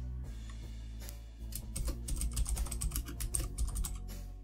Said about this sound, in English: Type a name for the task.